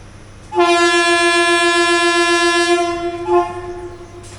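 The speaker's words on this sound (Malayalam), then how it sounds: "എറണാകുളം ഷൊർണൂർ ഓടുന്ന മെമുവിൻ്റെ റേക്കാണിത്." An electric multiple unit MEMU train on the Nilambur-Shoranur route sounds a loud, sustained horn close by for about two and a half seconds, then gives a short second blast, with faint rail noise beneath.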